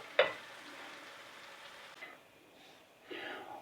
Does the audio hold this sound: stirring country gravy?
yes